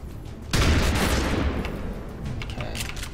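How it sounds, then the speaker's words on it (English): Shotgun blast from the video game XCOM 2: a single loud, close boom with a sharp onset, followed by a rumbling decay and a few softer crackling impacts, heard alone without talk. "Shotgun shot."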